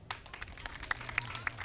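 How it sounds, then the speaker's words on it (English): Light, sparse audience clapping at a children's show, a few scattered close claps over a low hum, faint and brief. "I think you should clap for me."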